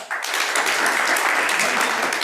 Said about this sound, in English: So again, give yourself one last clap.